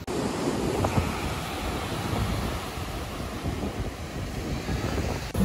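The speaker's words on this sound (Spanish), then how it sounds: "Vean cómo chocan las olas." Ocean waves crash and roll continuously onto San Lorenzo beach in Manta, Ecuador, a steady loud surf roar with wind buffeting the microphone and no speech throughout.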